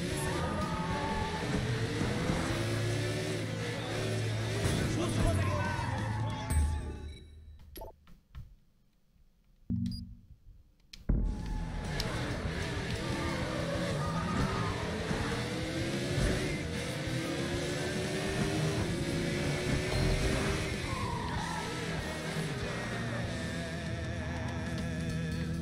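A motorcycle engine drones and shifts pitch while riding in Sleeping Dogs Definitive Edition, steady and loud apart from a brief dip into near silence partway through before the engine roar returns.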